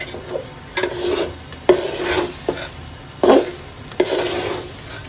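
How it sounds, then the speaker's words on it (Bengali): Rice fries in a pan while a spoon stirs it in repeated scraping strokes, some sharp and close, over a low, continuous sizzle, with no talking. "তো এই যে চাউলটা ভাজা হয়ে গেছে আমার"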